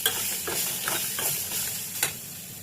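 Cooked rice being stirred in a pan with sautéed Indian gooseberry, a steady scraping stir with soft sizzling and a few sharper spoon scrapes, close and alone.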